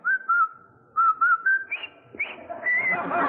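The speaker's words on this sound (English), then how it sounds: "Whistle that song." A game show contestant whistles a bouncy marching tune in short, clear phrases, close by, rising and falling in pitch with brief gaps between notes.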